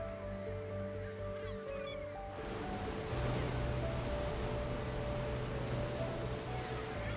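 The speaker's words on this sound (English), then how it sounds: "Golden sand stretches along the shoreline as waves roll onto the beach" Waves roll onto a golden sandy beach along the Mexican coast. A steady, broadband wash of surf fills the scene and swells louder after the first couple of seconds, with faint tonal music at the start.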